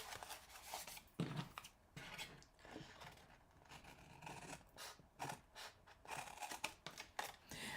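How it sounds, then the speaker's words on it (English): Scissors snip out a paper card piece for a toadstool-themed box and card, a string of quiet close-up cuts and rustles with no one talking. "I'm going to cut this one out"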